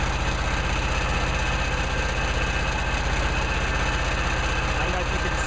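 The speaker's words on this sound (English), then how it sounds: "So this gives the engine time to warm up before loading it up too much." Arduino-controlled engine idling and warming up, with a close, loud, steady rapid chugging pulse and constant mechanical hum that carries on evenly throughout.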